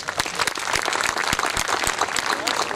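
Applause at a school speech event honouring a 100-meter dash record held for 46 years, with a crowd clapping steadily and fairly close while voices come through underneath.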